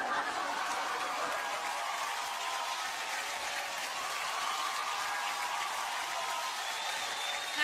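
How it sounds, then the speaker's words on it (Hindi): Sustained audience applause at a Filmfare awards show, a dense continuous roar of clapping with a faint hint of crowd chuckles mixed in, steady and loud throughout. "इस टीम के लिए जोरदार तालियां होनी चाहिए।"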